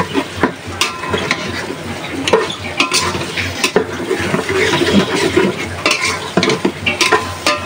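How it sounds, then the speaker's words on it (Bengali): Spice paste with liver pieces is stirred and sautéed in a cooker, making a busy close sizzle with repeated metal spoon scrapes and knocks against the pot in an uneven rhythm. "মশলাটা কষিয়ে আস্তে আস্তে হবে"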